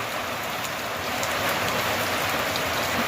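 Rain pours down in a village in autumn, a continuous close hiss of falling drops, unbroken and uniform, with no one speaking.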